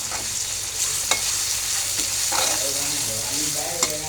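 Onion with garlic and ginger paste frying in a pan, a loud continuous sizzle with occasional sharp clinks and scrapes of stirring against the metal.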